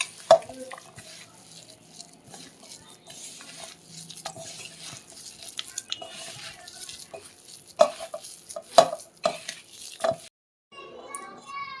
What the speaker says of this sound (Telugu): ఇప్పుడంతా మిక్స్ చేసుకోవాలి, మంచిగా కలుపుకోవాలి.